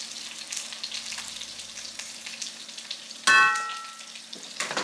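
Minced garlic and green onion fry in a pan with a continuous crackling sizzle, close by, broken near the end by a sharp metallic clang with a short ringing tail, followed by further stirring.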